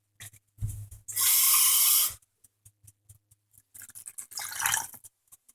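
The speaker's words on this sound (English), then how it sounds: "and I'm gonna put the water" Water poured into a dish of meatloaf mix while cooking: a loud steady pour lasting about a second, then scattered small drips and clinks and a second, shorter splash, with no talking.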